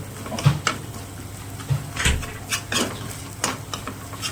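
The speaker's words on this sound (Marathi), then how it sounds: "छान असं परतून घेते मसाले अद्रक लसूण आणि मसाल्याचं" Spices with ginger and garlic being stirred and sautéed in a pan for brain fry, a stirring utensil scraping and clinking against the metal pan in irregular knocks over a soft sizzle, close by with no talk.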